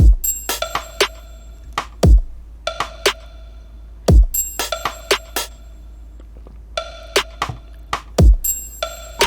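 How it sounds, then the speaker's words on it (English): FL Studio drum pattern built from triangle and wood block: crisp, sparse ringing metallic hits and dry clicks mixed with deep kick-like drops over a low steady hum, looping in a regular groove with no talking. "the drums sound like this"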